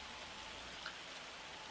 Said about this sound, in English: we're talking torrential rains here